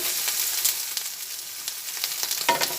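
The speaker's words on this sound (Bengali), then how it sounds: "বেগুনটা একটু ভেজে নিচ্ছি" Eggplant pieces with a little turmeric fry in a pan for a Bengali mustard-poppy eggplant dish, giving a soft, steady sizzle broken by a few sharp stirring scrapes.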